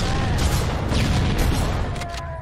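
Chaotic combat noise from Halo: Combat Evolved on Legendary difficulty, dense and loud throughout, with rumbling low-end blasts and scattered sharp bursts as a frag grenade goes off amid ongoing firefight sounds.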